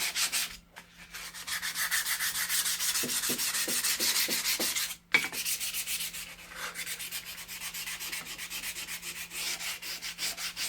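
Steady abrasive scrubbing on the steel back of an H. Disston & Sons backsaw to remove rust and gunk, a continuous close rasping rub with brief pauses and a few light taps, no talking.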